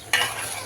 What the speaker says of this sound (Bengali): সব মশলা কষায়া এখানে মুরগিটা দিয়ে দিলাম